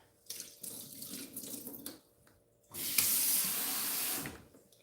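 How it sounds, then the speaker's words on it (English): Water pours from a container holding a cut pear and avocados into a kitchen sink, running in two spells, a softer first stream then a louder, steady gush that stops abruptly. "So let me pour out a little water."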